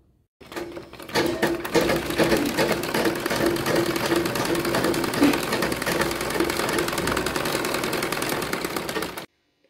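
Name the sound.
sewing machine stitching an Anarkali chudithar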